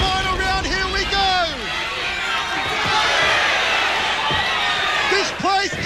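A capacity crowd roars at a 1999 ISKA world title kickboxing fight during the fifth and final round, a loud, sustained wall of cheering with a voice talking excitedly over it.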